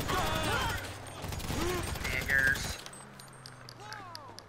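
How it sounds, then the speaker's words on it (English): Gunfire from players shooting during a GTA Online session rings out as a loud burst of video game shots in the first few seconds, mixed with people talking, then fading to quieter background game sound. "there's people shooting at us"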